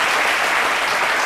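A crowd of admirers applauding, steady dense clapping that fills the whole moment without a break, loud and close, with no voices standing out.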